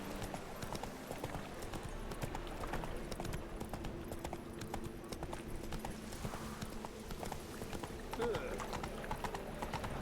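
Horse hooves in The Witcher 3 gallop in a steady rapid clip-clop close by, running through the whole stretch beneath game sounds, with people talking over it throughout.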